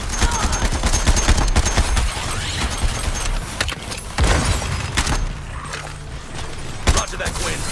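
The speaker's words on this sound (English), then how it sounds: "Roger that, Quinn. Firing on your target." Heavy gunfire and blasts in the action game Suicide Squad: Kill the Justice League, loud and constant with rapid shots and scattered booms, while characters talk over the combat.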